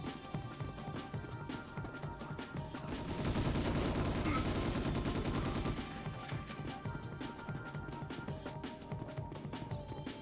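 Shotgun firing in a video game, a fast run of sharp repeated blasts that swells louder in the middle and then eases back to a steady clatter of shots.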